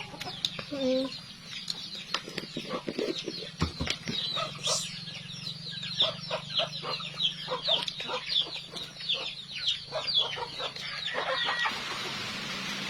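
Chickens cluck and chatter repeatedly in a busy farm yard, with a brief flutter of wings partway through; the sounds are fairly close and continuous.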